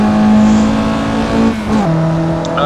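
In the Assetto Corsa racing game, a car engine holds a steady, loud drone, then dips in pitch as the revs drop or the car shifts gear, close and alone with no talking.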